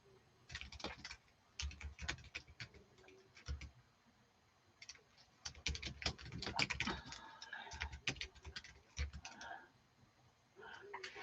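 Bursts of rapid clicking keystrokes on a computer keyboard, close and quiet, coming in uneven clusters with short pauses between them.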